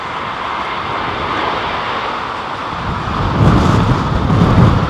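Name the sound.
airliner landing in strong wind at London Heathrow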